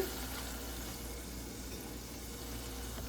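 Tomatoes sautéing in a pan for mushroom gravy, a quiet steady sizzle and low crackle, faint and continuous without voices.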